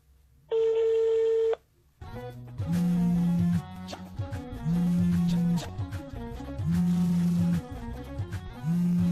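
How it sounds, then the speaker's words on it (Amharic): An outgoing telephone call begins with a short electronic beep, then the ringback tone sounds four times in an even, repeating cadence, clear and close. "ስልክ እኮ እየጠራ ነው"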